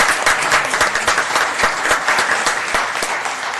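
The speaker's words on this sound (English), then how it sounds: "can we give them a round of applause" A crowd at a Baldwin Park city council meeting breaks into dense, loud applause, a continuous wash of many hands clapping at once, with faint murmuring underneath.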